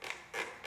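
Humanscale World office chair gives three short, close creaks in quick succession, quiet and dry, with silence between them.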